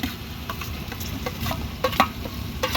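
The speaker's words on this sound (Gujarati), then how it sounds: "આપણે નાખીશું લીલા બટેકા ત્યારબાદ હવે આપણે નાખી દઈશું લીલા મરચાં એ સારી રીતે શેકી જાય" Green potatoes and green chillies roasting in a pan for masala rice, a low sizzle under scattered clicks and scrapes of stirring, close and steady with no talking.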